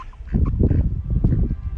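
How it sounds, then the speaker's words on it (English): Ducks in the gardens of a closed Alton Towers theme park call in a loud, close, rapid burst of honking quacks that continues without a break. "These ducks won't stop following me"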